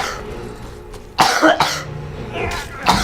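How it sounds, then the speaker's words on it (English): A sick person, lightheaded from illness, coughs in several loud, harsh bursts close by, with throat clearing between the fits and no talking. "I'm sorry right now, guys. For all the coughing."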